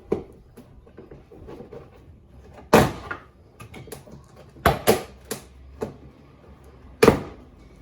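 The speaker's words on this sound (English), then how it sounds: "with this plastic tool, we'll just put it between the door panel and the door itself, and we'll just pull" A plastic trim tool prying the front door panel off a 2018+ Lexus ES 350 gives a series of sharp plastic clip pops and snaps, several loud bursts spaced among quieter creaks and scrapes, close up.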